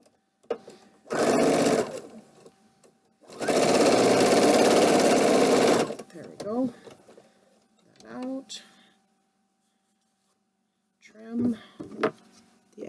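A sewing machine stitching fabric for a quilted mug rug, running in two loud sustained bursts, the second longer, with quieter handling clicks and brief talk in the gaps.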